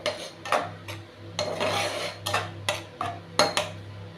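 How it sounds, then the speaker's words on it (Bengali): A spoon scrapes and clanks around a pan of curd eggplant over a lowered gas flame, with irregular metallic scrapes and knocks close up over a steady low hum. "এবার ভালো করে এটাকে নেড়ে নেব।"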